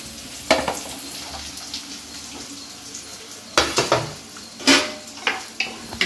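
Onions and a bay leaf sautéing in a pan, a low sizzle broken by sharp clatters and scrapes of a spoon stirring against the metal, with bursts of louder stirring near the end.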